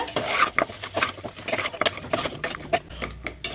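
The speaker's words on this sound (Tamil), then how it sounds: "இப்போ அதையும் சேர்த்து இந்த வெங்காயம் இஞ்சி பூண்டு பேஸ்ட்டோடய நல்லா வந்து வதக்கி விட்டுக்கலாம்" Beef bones are stirred and sautéed with onion and ginger-garlic paste over a low flame, with close scraping and clinking of a utensil against the pan in an uneven rhythm and a soft sizzle underneath.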